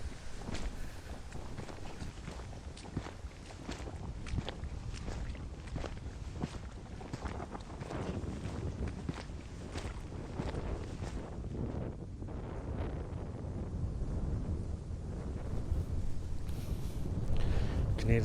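Wind gusts across open Scottish moorland in Ayrshire, buffeting the microphone with rough, continuous rumbling that builds toward the end, while a person talks faintly at times.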